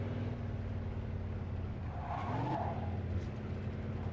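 A car drifting in the video game Mafia 2: a steady engine drone with a drawn-out tire skid squeal rising in the middle, moderately loud and close, no talking.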